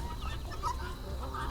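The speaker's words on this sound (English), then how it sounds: "This is an Indio Gante hen. She sounds really mean when I try to get her eggs" An Indio Gante hen clucks close by as her eggs are taken, a low grumbling run of short throaty clucks over the next second and a half.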